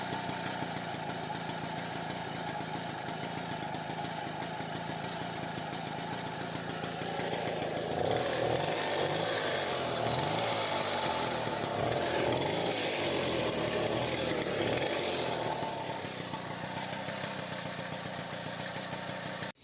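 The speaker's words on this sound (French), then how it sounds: "comme on a pu voir, le ralenti il tient mais avec des petits loupés" A Motobécane AV85 moped engine idles unevenly with small misfires, a fault traced to its magneto flywheel. The steady, loud buzz stumbles now and then and grows a little rougher about midway through.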